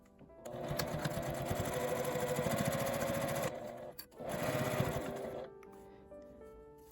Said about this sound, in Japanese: 両端に1センチぐらい差し込んで端ミシンをかけます。